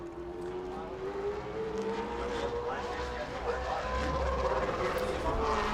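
A race car on the New Smyrna oval comes off turn four during qualifying, its engine a loud sustained drone rising in pitch as it accelerates, with an announcer talking over it.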